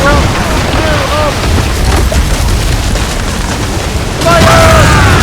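Loud, continuous booming of naval cannons firing broadsides during a sea battle in Assassin's Creed Rogue, rumbling low under shouted crew voices, swelling louder near the end.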